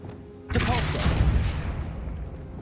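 A Depulso force spell is cast in Hogwarts Legacy, a sudden loud burst with a heavy thump and a rushing blast that rings on and slowly fades.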